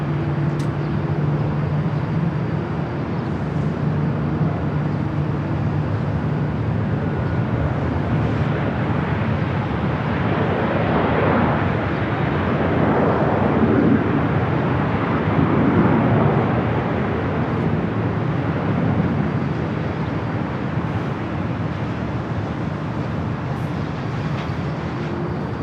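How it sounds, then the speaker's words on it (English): A LOT Polish Airlines Boeing 787-9 Dreamliner taking off from the north side at Los Angeles airport, a steady distant jet roar that swells slightly mid-way and holds, with no talk. "Next takeoff here on the north side."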